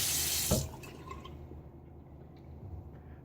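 Tap water runs briefly into a shaving bowl of Tabac hard soap lather, a loud hissing pour that stops after half a second, followed by faint dripping and quiet handling sounds.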